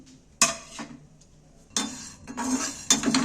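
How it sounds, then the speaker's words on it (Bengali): Cloves, cinnamon, cardamom, cumin and coriander are dry-roasted in a pan without oil while being stirred, producing a few sharp scraping and clinking bursts of utensil against metal separated by quiet gaps. "শুকনো খোলা একটু নাড়াচাড়া করে ভেজে নেব"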